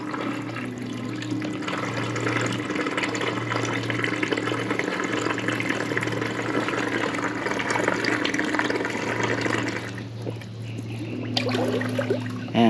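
Continuous watery churning and rushing of a WYBOT C1 robotic pool cleaner climbing a pool wall at the water line, steady throughout with a brief dip near the end.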